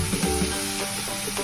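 Tomato paste sautéing in hot oil in a pan for boneless fish curry, a short close sizzle with a few soft stirring scrapes and no talking.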